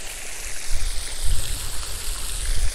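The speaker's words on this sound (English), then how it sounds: "While we watch the little water pump here." Water from a small outdoor pump splashes and gurgles into a pond, a close, continuous rushing with no voices.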